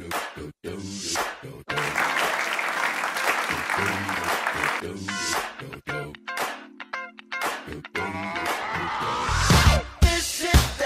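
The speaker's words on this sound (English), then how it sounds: "clap your hands" Audience applauding and clapping along at a live show, a dense wash of hands broken by voices and musical tones, with someone speaking at times.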